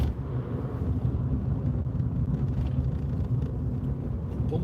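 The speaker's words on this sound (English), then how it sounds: "Oh, there's a lorry there. That's coming this way" A lorry going by in the oncoming lane while driving from Hattersley to Wigan, heard as a steady low rumble of engine and road noise from inside a moving car, fairly constant and moderately loud throughout.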